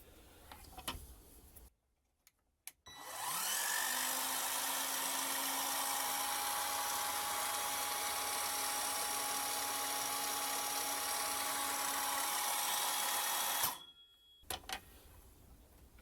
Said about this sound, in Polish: jak pracuje ten silniczek.